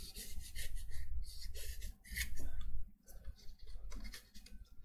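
Steady scratchy rasping strokes of sanding on cardboard, close and fairly quiet, in a repeated back-and-forth rhythm with brief pauses.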